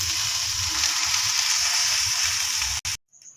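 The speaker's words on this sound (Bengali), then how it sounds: "তাই জলটা ঝরিয়ে একটু ভালো করে ভেজে নিচ্ছি" Beans, carrots and potatoes fry in a pot after being drained of water, giving a loud, continuous sizzle with faint stirring before it suddenly stops.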